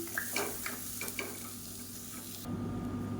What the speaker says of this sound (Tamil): இதை சேர்த்துட்டு வறுத்துக்கலாம்